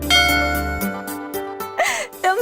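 A comedy-scene telephone rings with clear, bell-like electronic tones in a repeating pattern, loud and close, mixed with music-like tones.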